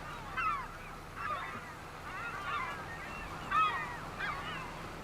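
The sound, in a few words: birds in a video game (Farming Simulator 25)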